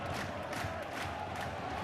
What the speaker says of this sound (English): Yeah, it's a good atmosphere, good crowd